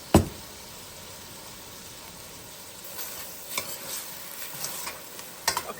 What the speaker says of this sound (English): while our meat is browning